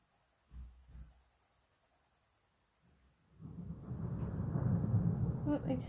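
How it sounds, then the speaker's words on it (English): Distant thunder during a thunderstorm rolls in after a quiet stretch, a long low rumble building and holding steady; brief voice sounds come before it. "Oh, sorry, there goes the thunder. So we're actually having thunderstorms."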